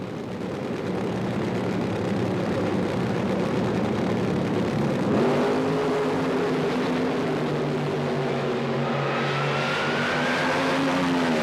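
A Camaro-bodied fuel funny car at a drag race roars with a loud, steady engine note that shifts partway through, its tone rising and falling as the run goes on.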